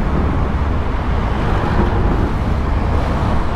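Road traffic on East Service Road forms a steady, broadband roar of passing vehicles with wind buffeting the microphone, constant and fairly loud with no distinct events.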